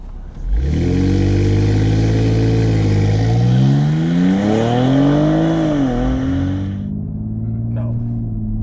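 A BMW X3 M Competition launching hard, its engine roaring up through rising revs, shifting and easing off before dropping to a low idle, heard from inside with a voice briefly under it.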